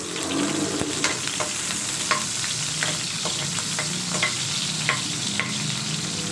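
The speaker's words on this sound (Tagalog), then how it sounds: "So ayan na, mainit ng ating pan. Lagay na po natin yung sibuyas." Onion sautéing in hot oil in a pan for Filipino ginisang tahong, with a loud, continuous close sizzle and scattered sharp crackles and spatula scrapes, no voices.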